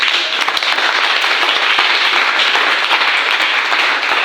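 A congregation at a church gathering for engaged couples breaks into dense, sustained applause, many hands clapping loudly and steadily from start to finish.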